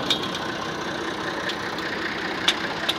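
A tractor engine drives a corn sheller in rural Punjab, making a steady, moderately loud running drone with faint rattling clicks and a few sharp knocks on top, and no voices.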